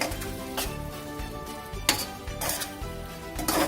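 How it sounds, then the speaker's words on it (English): Spoon scraping and clinking in a pan as potatoes are stirred into a spicy keema paste, a few sharp metallic knocks over a soft sizzle, fairly quiet and close. "give a nice stir so potatoes also get mixed in this paste"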